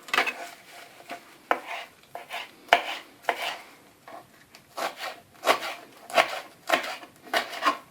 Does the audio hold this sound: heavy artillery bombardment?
no